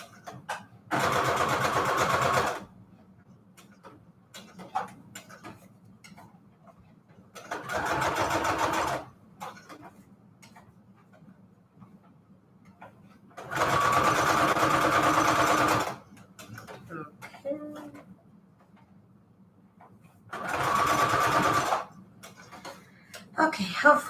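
Sewing machine zigzag stitching fabric onto manila tags, running in four separate bursts of a few seconds each with quiet gaps between, a close, loud mechanical whir over a low steady hum.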